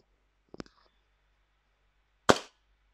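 Quiet mechanical clicks of a 1911 CO2 airsoft pistol loaded with 0.20 g BBs, then a loud, close single shot about two seconds later with a brief decay and no talking.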